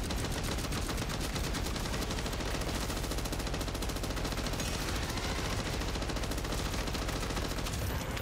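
Rapid sustained automatic gunfire from a weapon fitted with a conversion kit in MW3 Zombies, a dense unbroken stream of loud shots lasting the whole stretch with no voices.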